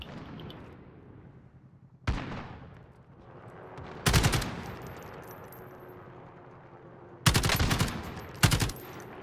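Video game gunfire in Call of Duty Warzone: several sharp automatic bursts, loud and close, breaking up a low ambient background in an otherwise quiet stretch.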